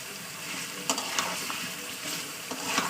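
Meat frying with spices in released oil sizzles steadily, punctuated by a few sharp stirring clicks and scrapes.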